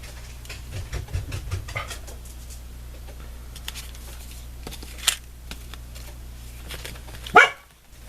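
Dogs bark excitedly indoors as someone arrives home, a few scattered barks and yips at moderate distance over faint background noise, ending with a louder thump-like burst.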